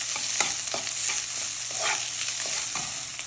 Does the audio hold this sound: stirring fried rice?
yes